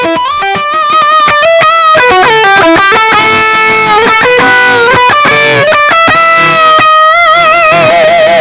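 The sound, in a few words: electric guitar through GGD Fat Baby 1x12 cabinet impulse response, stereo miking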